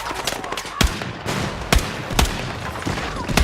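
Several sharp gunshots crack out at irregular intervals from people shooting nearby, each a loud broadband burst standing out over a steady noisy background.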